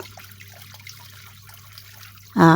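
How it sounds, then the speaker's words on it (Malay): Boiled eggs are peeled in a bowl of water, with soft trickling and light watery dabbling at low level, then a loud burst of sound starts abruptly at the very end. "Kupas dalam air, ketuk-ketuk supaya kulitnya senang nak tanggal."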